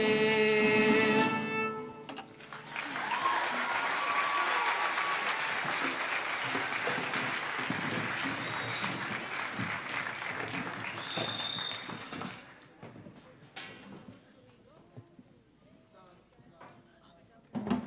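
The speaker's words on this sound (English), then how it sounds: "Let's give a big round of applause to our 8th grade mariachi group" Applause from a school graduation audience for an 8th grade mariachi group follows the end of a sung song, a dense crowd clapping that swells, holds steady for about ten seconds, then thins to scattered claps and murmuring voices.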